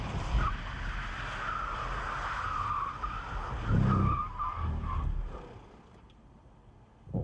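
Car without ABS braking hard from 50 mph and skidding, a sustained tire screech and scrubbing roar lasting several seconds before fading out, with no talk.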